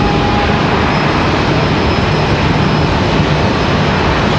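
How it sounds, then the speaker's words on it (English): A departing American Airlines jet at Raleigh-Durham International gives off a loud, steady roar of engine noise that fills the whole clip, with no talk over it. "Got American Airlines up next for departure, I think."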